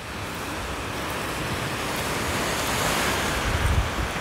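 Surf rolling onto a sandy beach of the Sea of Azov, a broad continuous wash of waves with some wind noise, building slightly louder toward the end.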